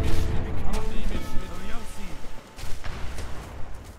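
Mortar and artillery fire booms and cracks in rapid bursts during a battle in the strategy game Age of Empires 3, loud blasts crowding together over the whole stretch with a short lull near the middle.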